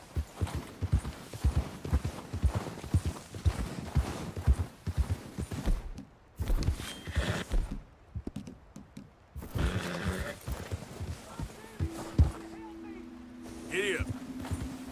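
Horse hooves clip-clop in a steady walking rhythm in Red Dead Redemption 2, close and fairly loud, with speech and a few game sounds mixed in across the stretch.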